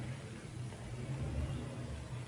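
Steady, low rumble of car traffic passing outside, a continuous distant engine drone with a gentle swell midway, heard alone in an otherwise quiet room.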